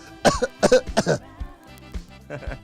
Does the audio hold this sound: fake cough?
yes